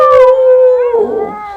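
A person imitates a wolf howl, one loud, close, sustained wavering tone that slides downward and trails off into a rough, breathy ending.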